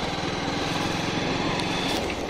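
A Bajaj Pulsar motorcycle fitted with added fog lights runs on the road, its engine giving a steady, loud buzzing drone throughout.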